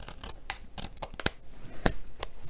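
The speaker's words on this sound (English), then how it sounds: "Get my scissors." Scissors snipping card stock on a craft table, a series of sharp, close cuts at irregular intervals with paper rustle between them, with no talking.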